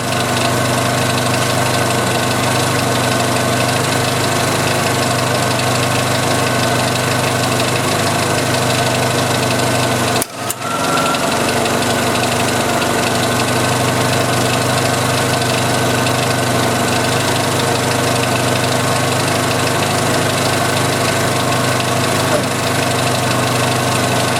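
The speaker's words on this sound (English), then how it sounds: "let's turn on the heater blower" A 1986 Jeep Cherokee engine idles steadily with the heater blower running, a loud, dense, continuous drone and whir held close throughout, broken by a single brief dropout partway through before the steady hum resumes.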